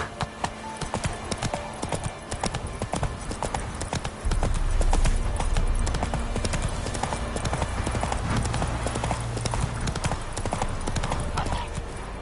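Hooves of Roach, the horse in The Witcher 3, clip-clopping in a steady trotting rhythm, fairly close and continuous, with a low rumble joining partway through and no speech.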